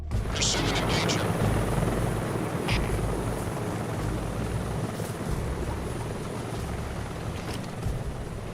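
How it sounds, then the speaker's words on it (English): Helicopter in the video game Metal Gear Solid Delta, a steady rotor drone running loud and continuous throughout, with voices speaking over it. "Where's that helicopter?"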